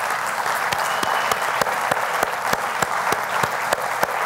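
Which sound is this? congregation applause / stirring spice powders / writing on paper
congregation applause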